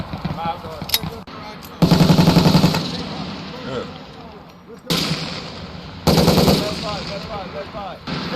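An FN MAG 58 general-purpose machine gun firing on a US Marine Corps infantry range, heard as several loud, sharp bursts of rapid automatic fire separated by pauses, with echoes and speech in the gaps.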